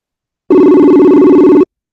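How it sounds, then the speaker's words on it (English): A single electronic ring tone of an online call sounds for about a second, a clean steady tone, loud and close with no other sounds. "And it is ringing, so let's see if this works."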